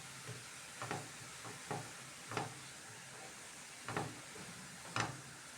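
Cabbage couscous sautés in a pan under a soft, steady sizzle, with spoon strokes scraping and stirring at irregular intervals, close and fairly quiet.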